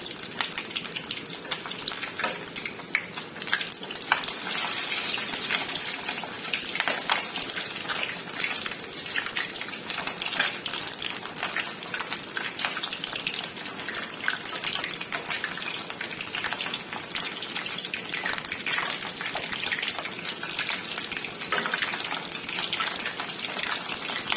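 Chicken wings deep-frying in hot oil, a steady, close crackling sizzle with constant bubbling and popping that continues unbroken throughout, with no talk over it.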